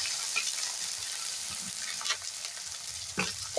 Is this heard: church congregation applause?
no